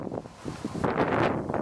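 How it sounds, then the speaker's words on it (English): Strong gusty wind buffets a microphone outdoors, a loud rough rushing roar with irregular surges that builds heavier after the first second. "Whoa, it's windy today."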